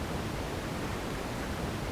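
Steady pink noise from a Squinky Labs noise source module in VCV Rack: an even, full-band hiss with a softer top end, constant in level throughout, with no talking.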